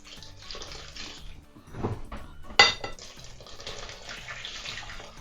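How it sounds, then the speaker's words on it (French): Water pours and splashes into a bowl of degue mixture with a clink of a utensil against the dish midway, close and fairly soft, with no talking. "vous pouvez rajouter le reste de l'eau"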